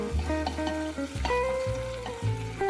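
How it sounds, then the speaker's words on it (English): Tomatoes and garlic stir-frying in a pan for a broccoli, wood ear mushroom and egg stir fry: close sizzling with repeated knocks and scrapes of a spatula against the pan, moderately loud, with no talk. "Add the tomatoes. Stir fry and soon the tomatoes will start to melt."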